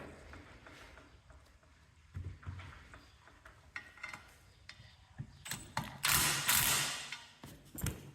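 Ratchet with a 9/16 socket tightening 3/8 sway chain bracket bolts on a Cub Cadet three-point hitch kit, rapid clicking bursts and metallic creaks in close, uneven runs, growing louder and busier toward the end.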